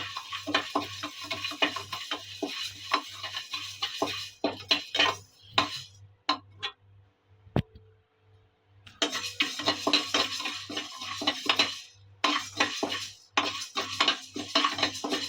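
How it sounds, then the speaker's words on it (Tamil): Urad dal being fried in a pan for instant mint chutney powder, with repeated scraping and stirring clatter of a utensil against the pan, a brief pause midway, and a steady low hum underneath. "இப்போ நெக்ஸ்ட் வந்து உளுந்தம்பருப்பு ஃப்ரை பண்ணி எடுத்துக்கலாம்"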